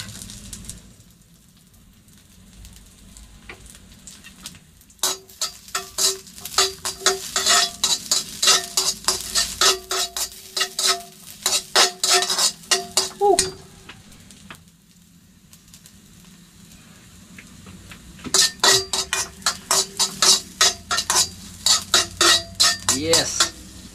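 Sautéing in a pan with a little leftover oil, a utensil scraping and stirring in fast rapid bursts over a steady sizzle, with a quieter pause midway before the brisk stirring resumes.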